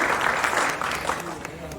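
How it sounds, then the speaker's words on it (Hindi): Loud applause for students at an Indian Sign Language Day 2022 celebration, a dense continuous wash of clapping filling the short stretch. "लुभावनी जोरदार तालियों द्वारा उन छात्रों का एक बार पुनः मनोबल बढ़ाएं।"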